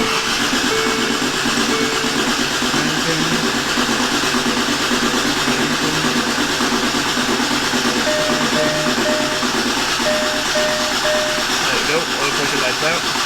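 Land Rover Discovery 2 diesel engine cranking and settling into a steady idle, a continuous mid-range rumble with tonal hum throughout, under occasional speech.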